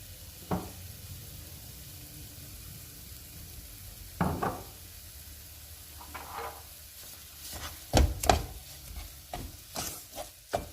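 Fig halwa cooking with sugar in a pan, a soft sizzle with intermittent scraping and clattering strokes of a spoon stirring, quiet and near, growing busier toward the end.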